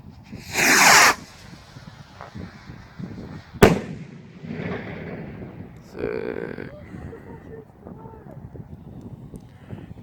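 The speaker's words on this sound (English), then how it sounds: "Green rocket number 1." A green firework rocket launches with a loud whooshing burst, then a sharp crack and crackling fizz follow. Someone talks intermittently throughout.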